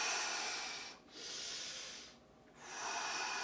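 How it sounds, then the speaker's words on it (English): A slow, deep breath during seated chair yoga, heard as two soft, breathy inhale-exhale swells with brief pauses between them, close and quiet with no talking. "Take a deep breath in when you come into that center position"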